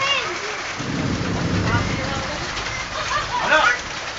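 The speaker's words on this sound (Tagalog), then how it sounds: "Di ulan yan, bagyo. Bagyo yan, bagyo." Heavy typhoon rain pours in a steady, dense roar with low rumbling thunder rolling through the middle, and voices speaking faintly under the downpour.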